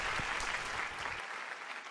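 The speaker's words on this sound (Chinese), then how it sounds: "我们给新娘一点力量，给她拍拍手" Wedding guests applaud the bride, a steady wash of clapping that fades slightly toward the end, with a faint voice underneath at the start.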